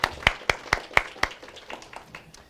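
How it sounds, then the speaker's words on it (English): A small audience at a community symposium on addiction gives a brief round of sparse, distinct hand claps that taper off and grow fainter over a couple of seconds. "So a huge round of applause for Ashley"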